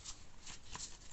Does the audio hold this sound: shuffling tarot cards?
yes